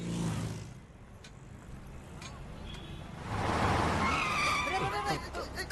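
A car approaches with its tires skidding, a broad screech swelling in the second half after a quieter stretch, with voices audible around it.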